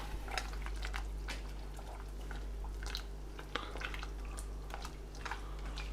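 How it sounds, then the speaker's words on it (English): A pot of chicken ramen broth simmers gently with cut ingredients in it, making soft bubbling and small liquid pops over a steady low hum, with no voices. "Just let it gently simmer"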